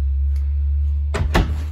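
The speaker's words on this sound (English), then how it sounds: "Sliding barn door on this one." A sliding barn door in a 2021 Grand Design Reflection 290BH travel trailer, rolling briefly then knocking twice as it stops, over a low steady hum.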